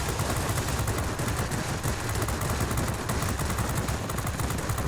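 A Spitfire V's machine guns fire continuously in World of Warplanes, a loud, dense, unbroken rattle of rapid shots filling the whole stretch without pause.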